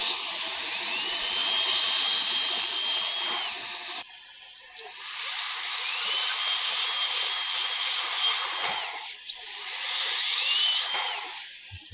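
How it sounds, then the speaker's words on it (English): A carbide burr bores through the acrylic base of an implant overdenture in three high-pitched whining bursts of drilling, each a few seconds long with brief pauses between, close and loud with no voices. "we'll start by drilling through the bottom of the appliance with a carbide burr"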